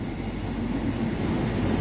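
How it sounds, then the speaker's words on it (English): Railway carriages in Vienna being shunted away by a shunting locomotive give a steady low rumble of rolling wheels and machinery, continuous and fairly even with no voices. "So clearly this is not our train, as it is now being shunted away"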